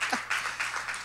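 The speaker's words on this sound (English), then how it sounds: "let's clap our hands and celebrate her." A church congregation claps hands together in celebration, a brisk, moderately close patter of many hands in quick rhythmic bursts, with a voice faintly heard over the start.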